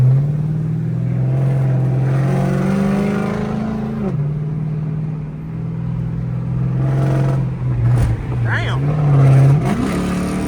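A loud catless straight-piped Chrysler 300C exhaust drones steadily at high revs with a raspy tone, the pitch dipping and rising as the throttle shifts, close by.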